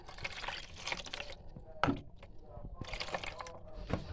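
A small ladle of hot lemon cooking liquid is poured while making pickled lemons. It comes as two close, splashy pouring bursts separated by a short pause with a single sharp clink, fairly loud and with no talking.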